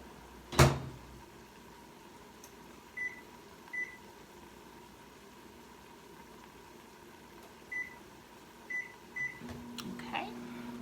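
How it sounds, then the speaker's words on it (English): A microwave oven hums steadily while thawing frozen corn for a ham and corn chowder, opening with a sharp door clunk and followed by a series of short beeps near and far. "So I'm going to thaw it out in the microwave just a little bit"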